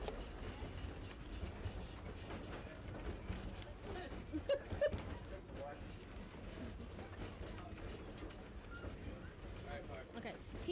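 A historic train car rides along rails with a continuous rumbling roll, rattling and clicking mechanisms, heard from inside the car; faint talk sits under the noise.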